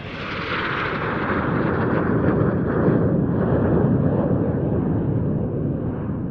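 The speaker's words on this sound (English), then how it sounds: "a one-off 3-ship jet aerobatic routine comprising the 2 Strikemaster Mark 82s of North Wales Military Aviation Services and the Vampire FB6 of the Norwegian Air Force Historical Squadron" Two Strikemaster Mark 82s and a Vampire FB6 flying a three-ship jet aerobatic routine at an airshow, a loud, continuous roaring jet rumble with a steady high whine that shifts slowly as the aircraft pass.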